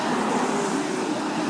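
A city bus pulls in at a stop on a lochside walking route, its engine drone and road rumble filling the air nearby as a steady, fairly loud wash of traffic noise.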